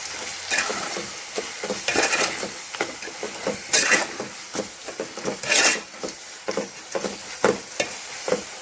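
Chili powder cooking in hot oil with intermittent scraping strokes of a spoon against the pan, a soft continuous sizzle underneath and irregular stirring clacks.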